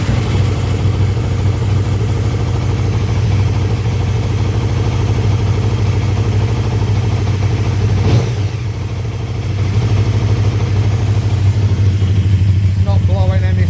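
A 2017 KTM Superduke GT motorcycle engine, started cold, idles with a steady low throbbing drone close to the listener, dipping briefly before settling back into the same even idle.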